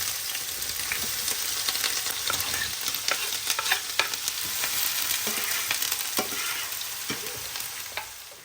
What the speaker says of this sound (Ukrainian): І тепер висипаємо його в сковорідку на попередню розогріту олію.